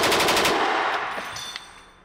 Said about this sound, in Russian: А калаш так-то стреляет всегда